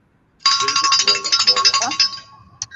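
Grandma Bobby's hand bell rung during a live stream, a bright sustained jangling with many rapid strokes for about two seconds, fairly loud, then a brief final ding.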